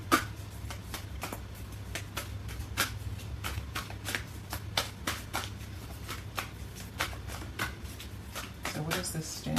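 Angel tarot cards are shuffled over and over, a close run of crisp riffling flicks and soft slaps in a quick, uneven rhythm, with no other sound intruding.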